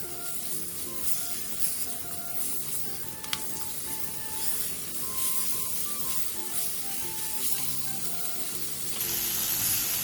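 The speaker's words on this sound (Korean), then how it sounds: "감자를 넣고 감자의 겉면이 살짝 투명해질 때까지 센 불에서 볶아주세요" Potatoes stir-frying over high heat for a Korean soup or stew, a dense, steady hiss and sizzle with faint clinks, close-up, over quiet background music and growing slightly louder near the end.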